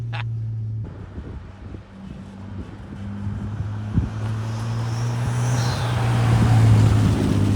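A Nissan Skyline R32 drives a slow lap around a city block, its engine a steady drone that slowly builds, with wind rushing over the microphone and no talking.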